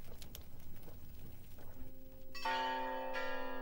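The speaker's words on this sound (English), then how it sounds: "When the church bell ringer rang his bell too loudly" A church bell strikes once and rings on with a long, loud, sustained resonant tone, preceded by quieter muffled background noise.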